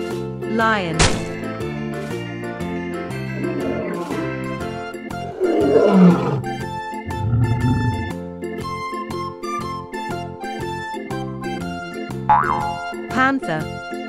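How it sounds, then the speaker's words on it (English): A lion roars in a children's animal-name lesson, with a few loud growling roars set against bouncy background music, boing sound effects and a speaking voice. "Lion."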